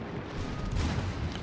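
Secondary battery guns of the Grosser Kurfurst battleship firing in World of Warships, a dense, continuous rumble of overlapping booms at steady loudness with no clear gaps between shots.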